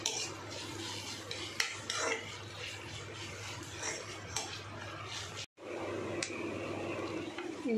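Ginger paste fries in a pan, heard as close, repeated scraping and rubbing of a spoon against the metal with a faint sizzle underneath and a brief silent break partway through.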